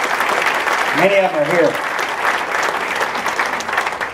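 A State of the City address audience applauds city employees, a steady wash of clapping throughout while a speaker talks briefly over it.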